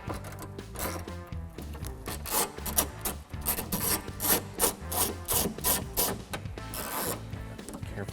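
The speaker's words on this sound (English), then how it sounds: "Remove this 10mm bolt here using the 10mm socket," Ratchet driving a 10mm socket on an extension to back out a 10mm bolt during car trim removal, a steady run of rapid close clicking and rasping strokes with no talking.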